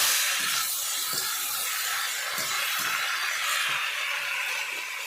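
Boiled vegetables, including raw banana for shukto, tipped into a pan of fried spices, giving a steady, close, continuous sizzling hiss that holds evenly throughout with no talking.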